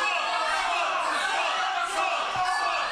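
Loud wrestling crowd at a Wrestling Resurgence match between Spike Trivet and Cara Noir, a dense sustained roar of voices with rhythmic chant-like swells throughout.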